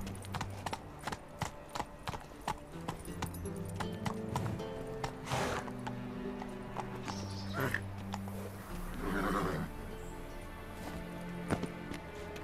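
Horse hooves in The Witcher 3, quiet rhythmic clip-clop steps alongside a horse's whinny, layered with game music and a brief voice.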